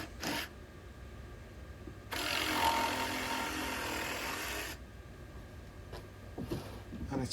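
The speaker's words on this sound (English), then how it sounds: "Great DeWalt jigsaw." DeWalt jigsaw cutting wooden decking boards, one rough buzzing cut lasting about three seconds between quiet handling clicks and knocks, close by.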